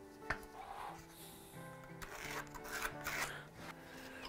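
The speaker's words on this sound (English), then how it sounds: "There's something really fun about using a buck saw for normal woodworking." A buck saw rough-cuts a wooden board for an end table, with close rasping strokes in an uneven rhythm and some clunks of wood, no voices.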